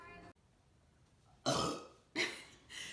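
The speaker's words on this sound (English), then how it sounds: "I love that you support my burps and give me credit when the burps are pretty good, even though that one is pretty bad" Two loud, raspy burps from an older man at an 80th birthday gathering, close to the mic and separated by a short pause, with a weaker third rumble trailing at the end.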